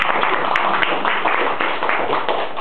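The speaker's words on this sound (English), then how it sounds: "We have a round of applause from them." Audience at a children's author event giving a round of applause, dense steady clapping from many hands throughout, close and fairly loud.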